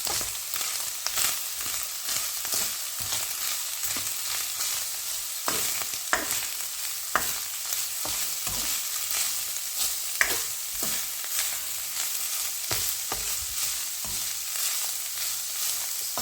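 Spaghetti bolognese sauce with crushed garlic sizzles steadily in a frying pan while a utensil stirs it in repeated scraping strokes, close and fairly loud, with no talking.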